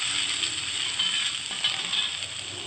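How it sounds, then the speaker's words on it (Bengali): Spices and chopped green chillies fry in hot oil for a vegetarian ridge gourd dish, giving a continuous close sizzle with light crackles and a few faint clinks, with no speech. "এরপর তেলের সঙ্গে কিছুক্ষণ এটা ভেজে নেব।"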